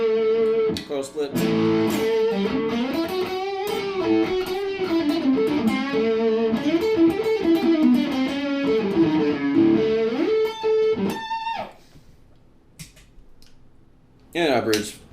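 A 2001 PRS McCarty electric guitar played through distortion with its humbucker coil-split, ringing out a sustained, saturated run of notes and chords for about eleven seconds, a brief pause, then a short final strum.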